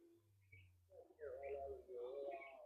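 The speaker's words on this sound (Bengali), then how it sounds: "হ্যাঁ প্রচুর পায়রা আছে" Giribaz pigeons cooing softly in short low murmurs, with a voice mixed in and other faint bird chirps around them.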